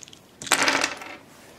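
A handful of eight dice rattle and clatter briefly onto a table during a game of the board game Target Earth, a single close burst with no talk.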